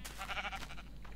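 A sheep in the Minecraft video game gives a single short, wavering bleat, close and clear, fading out after about half a second.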